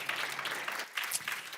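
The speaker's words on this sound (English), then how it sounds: "But warm applause to Alice." Audience at an architecture conference clapping steadily in a dense, continuous burst that dips briefly midway and then picks up again, close and fairly loud, with no voices over it.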